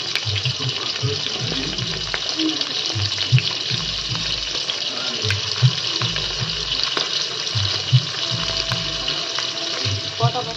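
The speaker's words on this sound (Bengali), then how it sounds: "ভাজা হচ্ছে আর এরকম একটু উল্টে পাল্টে ভেজে নিচ্ছি" Soya chunks with Kashmiri chilli powder fry in oil in a pan while being tossed, giving a steady, close hiss of sizzling with soft, rhythmic low thumps beneath it throughout.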